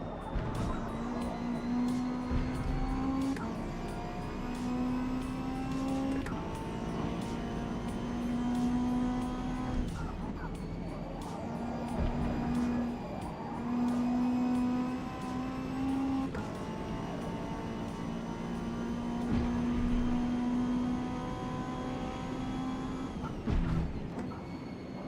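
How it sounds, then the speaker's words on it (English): A touring car understeering in a racing video game, its engine droning steadily at a near-constant pitch with tyre scrub, the note briefly breaking and resuming several times through a long stretch of driving. "Just the depressing sounds of understeer."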